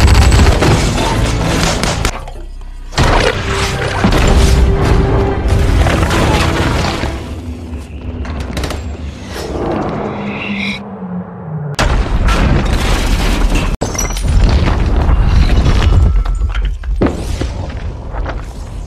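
Repeated heavy mortar explosions and booming blasts roll through a chaotic, noisy battle scene, loud and continuous with crashes and bursts throughout.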